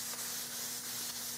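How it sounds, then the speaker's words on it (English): Hand sanding a custom Remington 788 gun stock finish with foam-backed 400-grit sandpaper gives a steady, close, continuous rubbing hiss with faint rhythmic strokes and no talk. "I'm sanding this with some"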